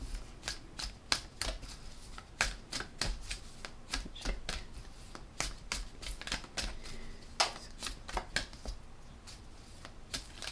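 Work Your Light Oracle deck cards being shuffled by hand, a quick irregular run of crisp riffling slaps and flutters, close and fairly quiet, with no talking.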